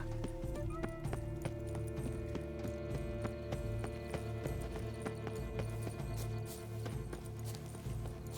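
Hooves clip-clop in a quick, steady gallop in The Witcher 3 as a horse crosses large gardens, close and continuous with no talking.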